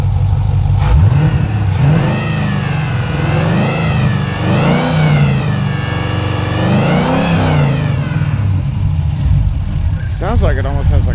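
A 2004 Pontiac GTO's 5.7L LS1 V8 with Trick Flow heads and a possible mild cam runs loud and close, rising and falling through repeated revs over a steady idle, with a voice speaking over it.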